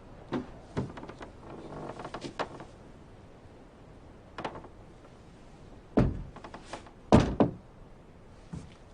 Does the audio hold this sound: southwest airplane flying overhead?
no